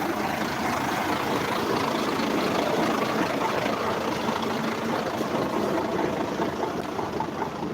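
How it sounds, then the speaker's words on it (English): Continuous rumble of engines idling at a truck stop, a dense steady drone of trucks running nearby with no talking over it. "We're actually at a truck stop."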